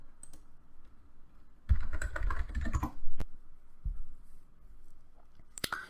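Commands are typed on a computer keyboard in uneven clusters, with a dense loud burst of keystrokes midway, a few sharp isolated taps, and a quieter background hum between them, with no speech.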